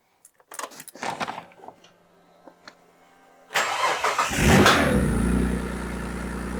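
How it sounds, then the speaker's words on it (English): A few clicks and rattles, then a Ford Anglia's engine cranks and catches with a loud burst, revs briefly and settles into a steady rumbling idle. "let's go and fire the car up and see what we get there"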